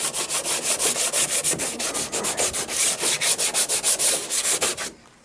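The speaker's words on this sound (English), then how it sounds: "And now I'm going to take off that burr." A hand tool deburrs a drilled hole in a model railroad backdrop workpiece, producing rapid, even back-and-forth scraping strokes, about five per second, close and fairly loud, ending abruptly with no talk.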